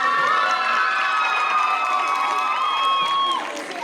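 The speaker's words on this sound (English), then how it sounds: "Can we get another round of applause?" At a Chibi Chibi Con lip sync contest, the audience erupts in loud cheering and shrill whoops with some clapping, a brief bright burst that fades slightly at the end.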